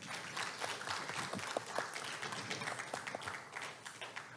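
Audience applause at a Korean research institute awards ceremony, a steady wash of many hands clapping continuously at moderate distance, without speech.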